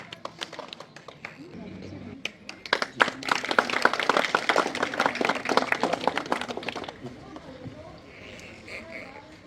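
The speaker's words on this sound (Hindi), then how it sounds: "जोरदार तालियों से इनका स्वागत" An audience at a village stage ceremony bursts into clapping, quickly swelling into dense, lively applause that holds for several seconds before tapering off, with a voice over a microphone heard faintly near the end.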